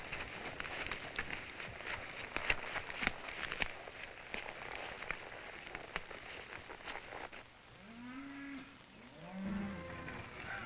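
Cattle low from an outdoor kraal or roundup on Arizona Strip rangeland, with a couple of moos near the end rising over steady ambient rumble and scattered clatter.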